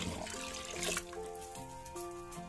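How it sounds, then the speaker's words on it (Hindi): Water is poured into a pot for masoor and moong dal, giving a soft, close splash and trickle that fades quickly into faint kitchen background under quiet tonal hum. "ये 1 बॉल हम डाल लें इसमें पानी का,"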